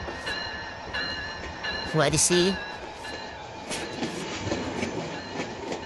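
A train in the game Train Simulator Bangladesh runs along, a steady rolling rumble with rhythmic wheel clacks and a brief rising tonal whistle or chime in the middle, while someone talks over it.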